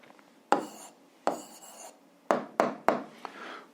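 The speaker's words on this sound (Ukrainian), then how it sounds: "Записуємо відповідь, пишемо відповідь." A pen scratches out an answer to an algebra exercise by hand, in several short, close, dry strokes separated by brief pauses, with no one talking.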